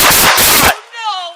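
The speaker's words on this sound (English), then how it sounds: "205, shots fired." A close, very loud blast from a police encounter with a man armed with a shotgun, a dense burst of noise lasting under a second that cuts off into a ringing, whining tone.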